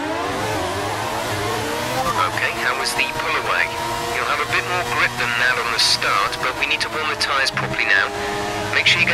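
Formula 1 cars in the F1 2019 video game roar off the grid at the German Grand Prix start, a loud sustained engine drone with rising revs and whining gear changes, overlaid with commentary speech.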